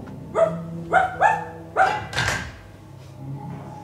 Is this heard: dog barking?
yes